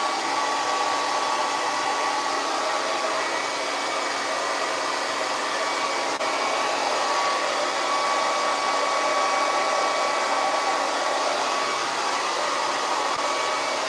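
Hair dryer fitted with a diffuser blowing on curly crochet hair, a steady, loud, unbroken whoosh of airflow that holds level for the whole stretch with no voices.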